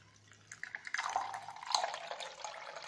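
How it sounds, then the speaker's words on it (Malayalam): Amla and curry leaf juice strained through a sieve, trickling and dripping steadily into a container, close and quiet. "ജ്യൂസ് ഒന്നുകൂടെ നമുക്ക് അരിച്ചെടുക്കാം."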